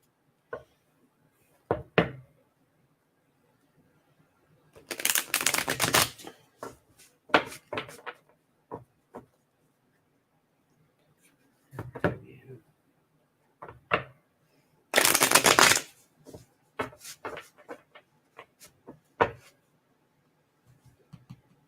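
Oracle cards shuffled in two loud, dense bursts, with scattered taps and knocks of cards being handled and set down between them, close up in a quiet room.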